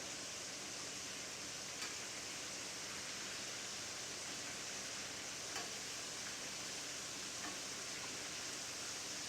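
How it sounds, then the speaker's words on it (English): Chicken wings, brined in salt water the night before, sizzle steadily in hot oil, a dense continuous hiss with a few faint pops, close and even throughout with no talking. "Can y'all hear the sizzle?"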